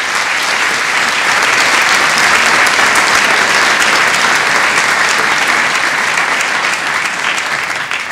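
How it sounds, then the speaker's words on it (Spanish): A concert audience applauds the mayor and council at a jazz trio performance, a loud, dense, steady wash of clapping from many hands that holds for about eight seconds and eases slightly at the end. "os pido un aplauso para ella y para toda la corporación"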